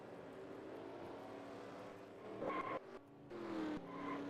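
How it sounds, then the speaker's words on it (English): Race car wreck in NASCAR Racing 2003 (NR2003) at Atlanta, loud roaring engines over continuous crowd-like noise, with a brief burst of crashing impact and screeching tires midway, then engines whining on. "That is the biggest wreck today."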